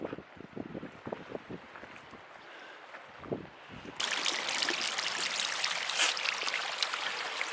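Strong wind buffets on a river during an early spring outing in a jet outboard jon boat, starting as intermittent gusty thumps and swelling into a loud, continuous roaring rush halfway through.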